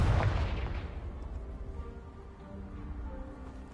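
A magical Confringo blast in Hogwarts Legacy blows apart a pile of debris, hitting with a loud, deep boom that rolls into a long rumbling decay with scattered crumbling and settling.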